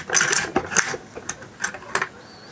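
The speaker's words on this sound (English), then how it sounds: "Pull the bolt assembly rearward until it disengages from the receiver rails." Kalashnikov rifle bolt assembly being slid rearward out of the receiver rails, giving a few close, crisp metallic clicks and scrapes in an irregular rhythm with no talking.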